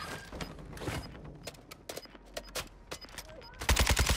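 Gunfire in Warzone 2, a video game: scattered single shots and short bursts crack through the clip, ending in a loud rapid automatic burst at close range.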